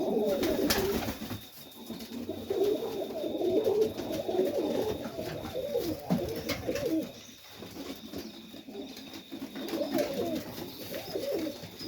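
Pigeons coo steadily inside a loft, several birds overlapping in soft, repeated throaty calls at close range, with a few wing flutters and brief louder bursts; no talking.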